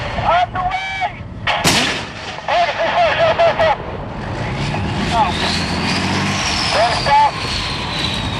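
Main gun of a T3E2 tank firing, with sharp heavy blasts standing out over a droning engine and vehicle rumble while crew voices call commands over a radio.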